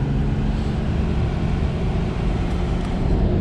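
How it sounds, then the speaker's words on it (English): A 2015 BMW M3 F80 with its turbocharged engine pulling hard in third gear, a steady loud droning roar heard from inside the car with no talking. "We'll do a third gear rev real quick once we get up here."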